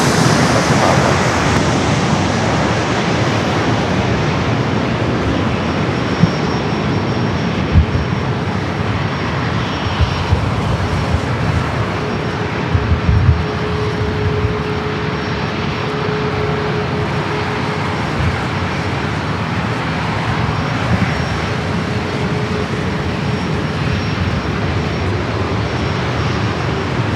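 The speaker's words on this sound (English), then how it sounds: "Southwest heading to Portland at flight 4908 at 737 MAX 8" A Southwest Boeing 737 MAX 8 jet at San Diego airport roars steadily and loudly for the whole stretch, a broad continuous engine rumble with a faint high whine, and no voices.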